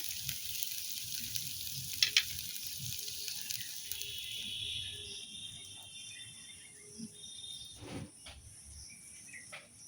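Onions sizzling in a pan, a quiet steady frying hiss with a few soft scrapes and clinks of stirring, close and low in level.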